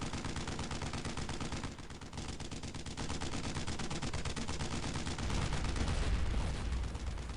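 Sustained rapid gunfire aimed at a tank in Brothers in Arms Road to Hill 30, a dense continuous rattle of machine-gun shots with heavier booms underneath, steady and loud throughout.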